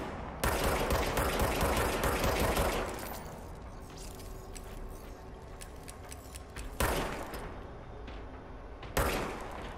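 A service weapon fires in the game Control: a loud, dense burst of rapid gunfire for about two and a half seconds, then quieter rattling with two sharper single shots near the end.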